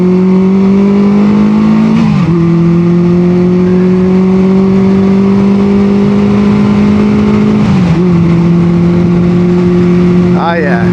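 A 1973 Honda CB350 Four motorcycle engine hums steadily while riding, a smooth loud exhaust drone that dips briefly at two gear shifts before settling back, with wind rush and a rider's voice in between.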